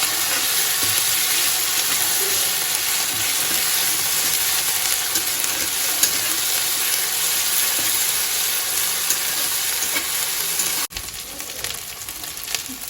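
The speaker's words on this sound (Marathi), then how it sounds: "हे सर्व असं परतून घ्यायचं।" Pigeon pea curry ingredients, roasted beforehand, sauté in a hot pan with a steady, close frying sizzle and hiss, no talk, and the level drops briefly near the end.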